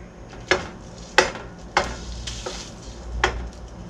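Ground beef sizzles steadily in a big frying skillet while a utensil scrapes and breaks it up, giving about five sharp, close scraping strokes over the constant frying hiss.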